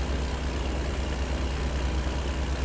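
A heavy truck engine idles in American Truck Simulator, a steady, loud low rumble layered with broad hiss that holds unchanged throughout, with no voices.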